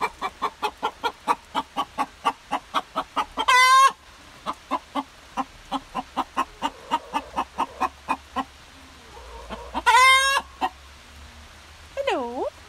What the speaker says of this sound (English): I've got a broody chicken.